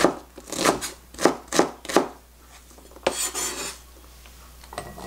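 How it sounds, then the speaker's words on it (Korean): A knife chops onion on a board in quick bursts of sharp rhythmic taps, several close strikes followed by a pause and a longer scraping run, close up and with no talk. "양파는 그냥 이렇게 잘게만 썰면 됩니다"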